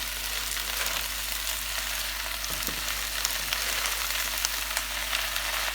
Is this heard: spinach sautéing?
yes